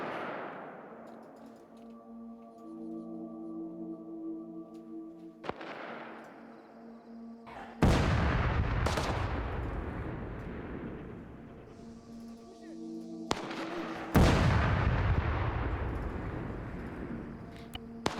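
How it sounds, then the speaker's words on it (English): Gunfire in a modded military simulation game: several loud, sharp reports with long rumbling tails, some arriving in close pairs, over a steady tonal background hum. "We just heard a gunshot."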